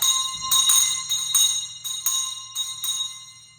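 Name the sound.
teacher ringing a school hand bell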